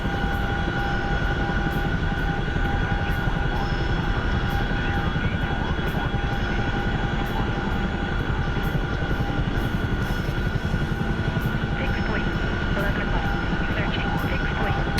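An aircraft in a video game takes off in a hurried combat takeoff, its engine droning loudly and steadily with a regular pulsing beat throughout, while a person talks over it.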